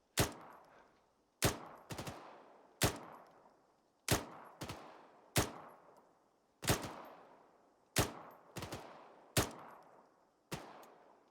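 Suppressing fire in Arma 3, a military combat game: loud single gunshots at irregular intervals, about every second, each with a long echoing tail, a few coming as quick doubles.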